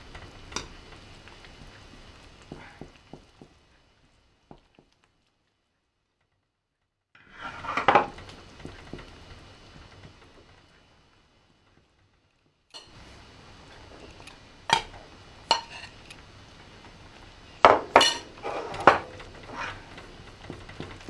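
Millet flour batter is stirred in a pot, with scraping and clattering utensil sounds coming in intermittent bursts between quiet gaps, close by and with no talking.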